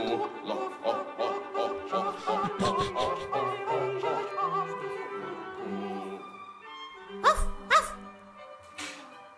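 A woman imitates a small dog with her voice, producing a run of rhythmic yips and whimpers at close range, followed by a pause and then a few sharper, louder bark-like bursts near the end.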